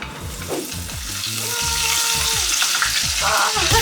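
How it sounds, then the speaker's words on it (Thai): Canned fish mixed with curry paste fries in hot oil in a pan. A loud, close sizzle builds and holds steady, broken by a few scraping stirs, with no talking. "ใส่ปลากระป๋องแล้วเตรียมลงทอดได้เลยจ้า"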